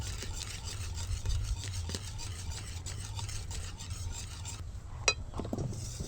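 Leftover cooked rice papad batter being stirred and mixed with a spoon in a bowl, giving a steady close scraping, rubbing texture with a low rumble underneath and a sharper clink near the end.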